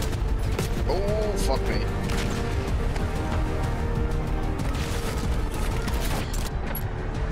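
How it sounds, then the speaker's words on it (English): Continuous AK rifle gunfire in a Call of Duty match, dense bursts of rapid shots and booms filling the whole stretch, with a voice speaking briefly over the shooting. "AK sounds different than it normally does."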